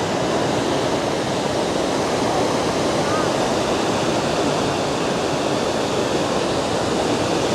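Iguazu Falls on the Brazilian side, a steady, dense roar of falling water that fills the scene at full loudness and stays constant throughout, with no pauses or breaks.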